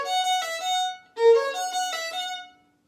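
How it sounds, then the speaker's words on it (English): A solo violin plays a Vivaldi phrase at an even loudness with no swell, close and clear. There is a short break in the middle, then several sustained notes, and nobody talks. "if you just played the whole thing the same"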